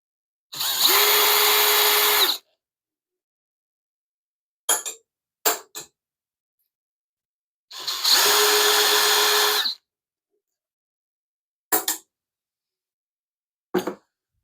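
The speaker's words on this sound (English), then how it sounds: "Okay, so now we're going to loosen the gearbox screws," A power driver loosening the gearbox screws on a DeWalt DW735 planer: two loud sustained whirring bursts of about two seconds each, separated by short sharp clicks and blips, with silence between and no talking.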